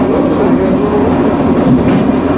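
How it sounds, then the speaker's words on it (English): A Blackpool tram passing along the street, a steady rumbling roll with clattering wheels on rails, loud and close throughout with no clear voices. "There's one of the Otis trams."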